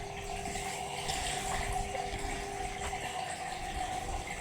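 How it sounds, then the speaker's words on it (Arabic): Dirty wash water steadily draining and trickling from a soaked quilt propped on a bathtub edge, a continuous close splashing flow with no voices. "انا هنا حطيته على حرف البانيو، طبعا شايفين المية بتتصفى ازاي"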